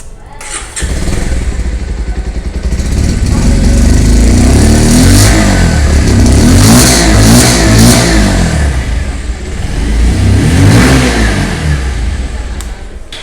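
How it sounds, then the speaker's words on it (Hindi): Bajaj Pulsar 125 Carbon Edition motorcycle exhaust, close and loud, starting up, then idling and revving repeatedly with throaty bursts that rise and fall. "तो ये फ्रेंड्स आप लोगों ने अभी 125 कार्बन एडिशन का जो एग्जॉस्ट साउंड था वो आप लोगों ने अभी सुना है"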